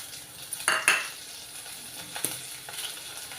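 Green chillies frying in a pan with ginger pieces produce a steady low sizzle, with a few clinking stirs of a utensil against the pan near the start and middle.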